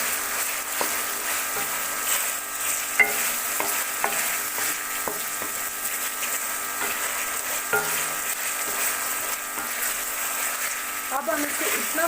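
Matar gosht masala with tomatoes cooking slowly over a low flame, with a spoon scraping and stirring through the thick curry in repeated strokes over a steady soft sizzle, while a voice talks at times.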